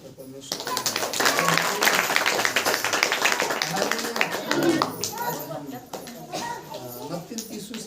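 Worshippers clap during a Hindi-language Saturday church prayer meeting, a burst of rhythmic group clapping mixed with children's voices and talk, rising quickly and fading over several seconds.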